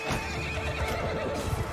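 An armored horse in the game Mount and Blade Bannerlord gives a loud, drawn-out whinny close by, with hoofbeats clopping underneath throughout.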